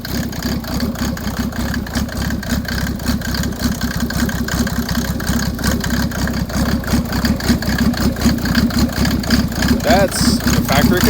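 Engine fitted with an 8mm injection pump and factory computer idling right after starting, a loud, steady, rough mid-low rumble throughout, with some voices over it.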